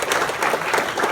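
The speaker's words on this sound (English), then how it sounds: "Please give them a round of applause." An audience claps for club presidents standing at a Rotary leadership speech, a short burst of dense, loud applause.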